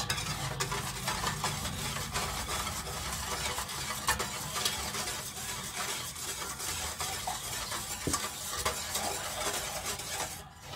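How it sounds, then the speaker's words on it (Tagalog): A spoon scrapes and clinks steadily in a pot while ube jelly ingredients are mixed together, with a constant soft hiss underneath and occasional sharper knocks against the sides. "haluin muna natin to guys hanggang sa mag well combined yung mga ingredients"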